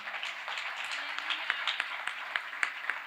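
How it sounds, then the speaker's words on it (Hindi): Congregation at a Christian gathering in Karachi clapping to glorify God, fairly faint, with sharper individual claps standing out near the end over a soft background of voices. "तालियां बजाते हुए खुदा को जलाल देंगे"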